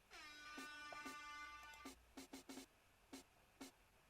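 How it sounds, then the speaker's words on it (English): An air horn sample in the intro of an electronic track with old-school samples, one long blaring blast followed by a series of short stuttering horn hits spaced in a loose rhythm, loud and alone. "And the air horn, of course."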